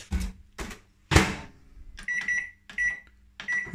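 A microwave oven heats a 550 g chilled chicken carbonara ready meal in its pot, with short loud bursts of hum and clatter followed by a series of clear beeps from the oven, close by and without speech.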